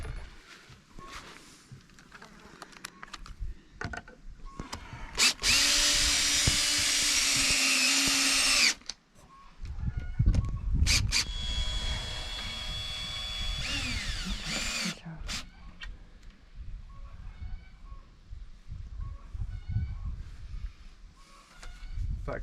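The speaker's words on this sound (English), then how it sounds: "These are nice little screws with the old Torx 30 driver in them." A cordless drill driving screws with a Torx 30 bit into acacia wood on a gate, two loud sustained whirring bursts with motor pitch shifts, separated by clicks, handling knocks and outdoor background.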